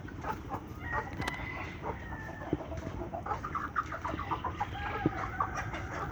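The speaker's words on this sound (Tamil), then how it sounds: "ஊர்கோழி" Country chickens cluck steadily close by, with a drawn-out crow-like call and scattered sharp squawks over a constant low hum.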